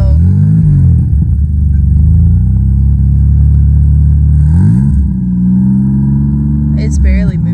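A 1989 Toyota Camry wagon with a failing fuel pump labours loudly as it barely moves in drive, a deep, strained engine drone that sags and recovers, with voices briefly heard over it.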